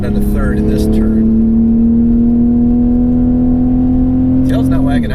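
A 2020 Toyota Supra engine drones loud and steady on track after a downshift to third gear, holding a strong even tone for several seconds with brief talk at the start and end.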